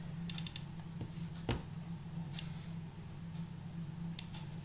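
Keys on a computer keyboard click while text is typed in Photoshop, making a few quick, light taps close by, scattered irregularly over a steady low background hum.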